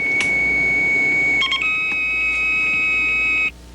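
Steady electronic tones sound from a phone line as a home uterine contraction monitor transmits stored data to a monitoring center, shifting pitch a few times before cutting off abruptly near the end.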